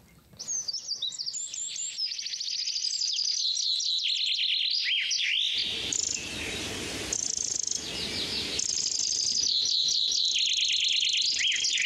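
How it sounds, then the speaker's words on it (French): Eurasian wren song: long, rapid bursts of loud, high trilling and chattering notes pouring out almost continuously, with a broader rushing passage in the middle, heard alone without any voices. "C'est le troglodyte mignon."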